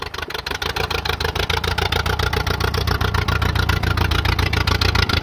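An old Allis-Chalmers WD tractor engine, recently freed after locking up, runs steadily in road gear with a loud, close, rapid rhythmic chugging beat throughout.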